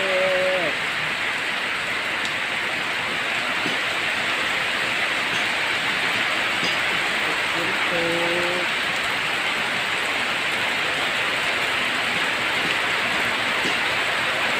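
Dense, steady rainfall hisses evenly, with a few faint animal bleats breaking through at the start and around the middle.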